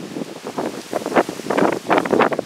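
Breezy wind on a mid-September morning gusts across an outdoor microphone in irregular, rustling bursts that swell and fade, with no talk over it.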